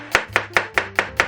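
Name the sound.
knife finely julienning an onion on a cutting board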